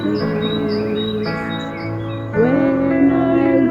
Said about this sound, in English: and hear the birds sing sweetly in the trees